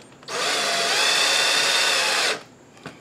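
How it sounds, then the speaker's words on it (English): A power drill driving a screw to mount a tool organizer on a wall whirs steadily for about two seconds, starting and stopping abruptly, close by with no talking. "you can screw it in the rest of the way with the drill"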